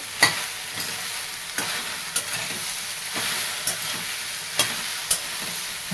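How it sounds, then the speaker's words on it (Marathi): Dry okra bhaji is sautéed in a pan. A steady sizzle of frying runs throughout, with sharp scraping clicks from stirring repeating roughly every half second to second, close by and with no talk. "आता ह्याला परतून घ्यायचं असतं"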